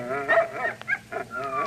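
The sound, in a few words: dogs barking in a radio drama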